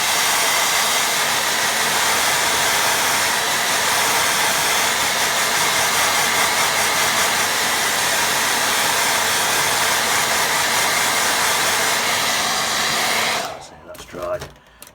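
A handheld hair dryer blows steadily over a watercolour beach-scene painting, a loud continuous whooshing roar for about thirteen seconds before it switches off abruptly and leaves brief faint rustling.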